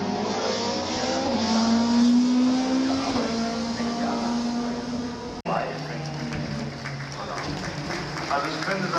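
A BMW E36 race car runs at the Nürburgring during the Oldtimer Grand Prix, its engine note rising as it accelerates past at steady volume, with a commentator talking over it.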